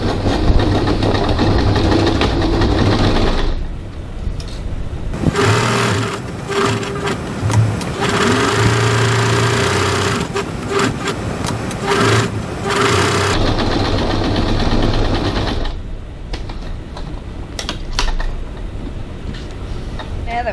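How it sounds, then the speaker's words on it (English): A domestic sewing machine runs in long continuous bursts as it stitches the card pocket pieces of a crossbody bag at normal stitch length, with a steady mechanical whir and short pauses between runs, close and loud. "Now we're going to stitch our card pocket pieces together using a 1 centimeter seam allowance"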